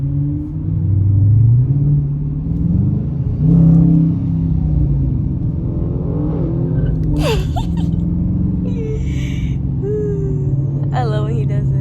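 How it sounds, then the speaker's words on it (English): A JDM car at a car meet downshifts and revs, its engine rising and falling in a few throaty blips over a steady low rumble, heard nearby from another vehicle. "Look, he downshifted."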